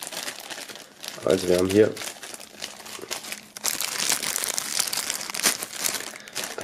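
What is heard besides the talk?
unwrapping items from plastic foil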